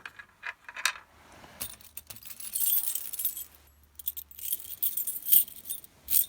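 A bunch of fire alarm keys jangles and clinks close up, bright metallic rattles in irregular bursts with short quiet gaps between handling noises.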